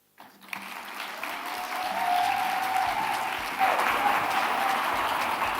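An audience at a live conference closing ceremony bursts into applause after a speech, with a dense roar of many hands that swells within the first two seconds and stays strong and sustained.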